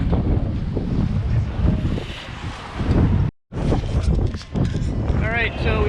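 A sailboat runs at sea in about 17 knots of wind, with heavy wind buffeting on the microphone and rushing water along the hull, and a person talking over the noise.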